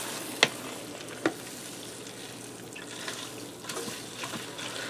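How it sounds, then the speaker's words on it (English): Steady soft sizzling of onions frying in a hot Ninja Foodi pot, with a couple of sharp clinks near the start and faint stirring sounds. "you hear how sizzling hot that got just from that 5 minutes"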